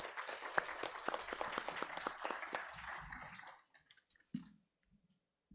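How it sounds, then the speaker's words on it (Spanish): Audience applause welcoming a speaker at an academic session, a burst of many hands clapping for about three and a half seconds, then fading into a few scattered claps and quiet. "Démosle un aplauso de bienvenida"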